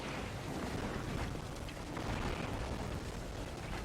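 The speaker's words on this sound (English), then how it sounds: "Fire slam, pretty cool." Fire slam ability attack exploding in the game Biomutant, a dense, rumbling burst of roaring blast noise that fills the whole short stretch at a steady loud level.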